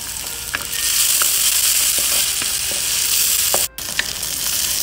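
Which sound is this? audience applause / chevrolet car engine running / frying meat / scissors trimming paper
frying meat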